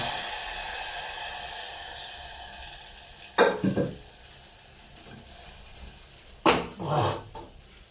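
Hot tempering for pacchi pulusu served with pongal, cooked in a clay pot: a faint steady sizzle with two louder hissing splashes as spices hit the oil, close and alone.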